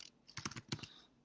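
A short flurry of computer keyboard typing, several quick close keystrokes in a quiet room while entering a client's name in intake form software.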